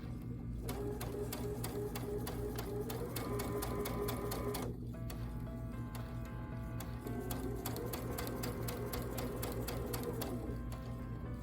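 Sewing machine stitching binding onto a quilt, a fast continuous mechanical whir with a rapid needle rhythm, close and steady, pausing briefly midway before resuming.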